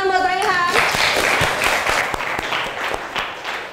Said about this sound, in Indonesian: tepuk tangan buat Raihan